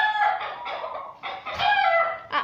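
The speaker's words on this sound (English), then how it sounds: "Separating turkeys from fighting." Turkeys squabble in a fight, loud agitated gobbling and clucking calls in rapid overlapping bursts close by, with no talking.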